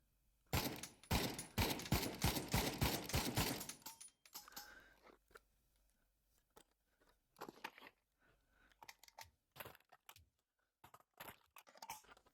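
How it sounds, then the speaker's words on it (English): A burst of rapid AK rifle fire in a VR shooting game lasts a few seconds, then scattered sharper single shots and clicks follow, all fairly quiet and with no talking. "I'm going to shoot my AK."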